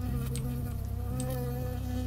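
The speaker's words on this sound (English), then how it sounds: "Seriously, I just got hit by a bee?" Bee buzzing in the video game Firewatch, a steady close insect drone with a wavering pitch, continuous and alone with no talk.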